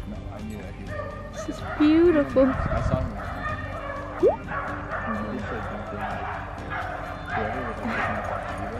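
Two dogs bark, yip and whimper up close in short excited bursts, including a rising whine, while someone talks over them throughout.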